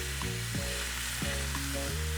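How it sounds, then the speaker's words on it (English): Venison sears in a hot pan with a steady, dense sizzle throughout, while a repeating low mechanical drone pulses underneath. "we're gonna grab this pan, flip this venison. Nice sear on here."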